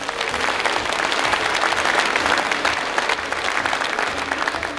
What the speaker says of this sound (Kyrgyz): ушуларды урматтоо үчүн бир катуу кол чаап коштоп коюңуздар